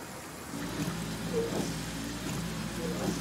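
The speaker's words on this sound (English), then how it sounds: "Or is it just the rain?" Rain falls in the video game Last Day of June as a steady, dense hiss with faint low tones from the game beneath it. The level stays even throughout.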